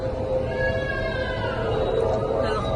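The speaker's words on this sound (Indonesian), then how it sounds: "Suara kucing." A drawn-out cat meow rises and wavers over a constant loud hum, with a murmur of voices faintly underneath.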